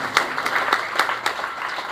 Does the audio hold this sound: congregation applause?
yes